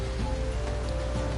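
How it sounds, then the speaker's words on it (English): Steady, dense rain in Final Fantasy XIV, a constant close hiss of drops hitting the ground with an even, unbroken texture and no voices over it. "having this rain"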